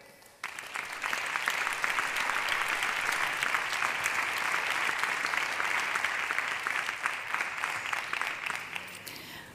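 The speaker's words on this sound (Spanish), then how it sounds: "recibimos de nuevo con un fuerte aplauso" An audience at a televised awards gala breaks into loud, sustained applause that starts abruptly and keeps a dense, even clatter of many hands for several seconds before easing slightly at the end.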